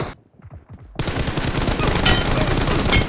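Bursts of rapid automatic gunfire in a shooter video game: a few sparse shots, then about a second in, a dense, loud, continuous barrage of shots that keeps going to the end.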